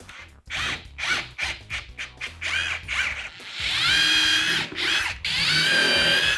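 A power drill runs in short bursts and then longer pulls as screws are driven in while installing a hidden door, close and loud, with a ratcheting, grinding edge.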